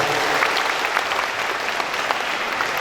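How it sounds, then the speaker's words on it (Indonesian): A crowd at a school visit in Kediri breaks into sustained, fairly loud applause for the president, an even wash of clapping with scattered louder claps. "Tepuk tangan untuk Presiden Prabowo."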